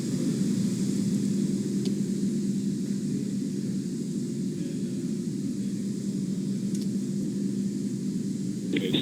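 A Falcon 9 first stage fires its engines for the landing burn on its sixth flight, returning from a Starlink mission, heard as a steady, heavy roaring rumble with a droning low hum, continuous and unbroken, with no voices.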